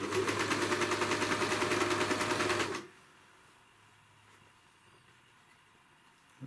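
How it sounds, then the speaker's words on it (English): An overlocker sews a trouser pocket with a loud, rapid mechanical chatter for a few seconds, then stops abruptly into quiet room tone with a faint click at the end. "The person who invented an overlocker is an absolute genius, because it's so clever"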